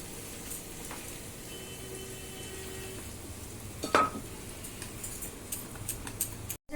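Chopped onion frying in a pan for vegetable pulao, giving a soft, steady sizzle with faint crackles throughout, plus a brief sharp clink near the middle and a few light knocks toward the end.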